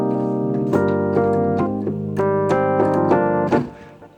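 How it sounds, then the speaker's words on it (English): Lounge Lizard EP electric piano plugin from Applied Acoustic Systems playing a short passage of warm sustained chords with a few melodic notes, clear and alone. "the Lounge Lizard EP from Applied Acoustic Systems, my favorite electric piano plugin."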